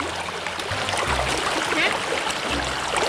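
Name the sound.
strong flowing river water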